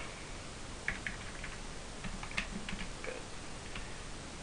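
Keys tapped on a computer keyboard, a sparse run of faint, irregular clicks in a quiet room with a steady background hiss.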